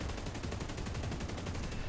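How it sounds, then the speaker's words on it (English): Aircraft cannon and machine gun fire in the War Thunder combat flight game: a rapid, evenly spaced burst of shots, quiet and sustained for about two seconds. "got the MG, got the cannon, off we go"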